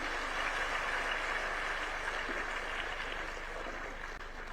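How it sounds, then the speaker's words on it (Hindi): Faint, distant applause from a ceremony audience at a birth centenary celebration, a steady wash of many hands heard from afar with no voices over it. "इन सभी के विशेष योगदान के लिए भी हम सब एक बार तालियां अवश्य बजाएंगे।"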